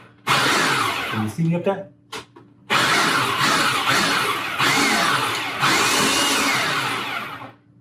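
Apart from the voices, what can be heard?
blender pulsing chopped onions for bourbon bacon jam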